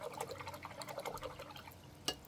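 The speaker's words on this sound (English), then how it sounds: "now I'm going to drop some water in here" Water drips and trickles onto watercolor paint pans in small irregular splashes, quiet and close, ending with a couple of sharper taps.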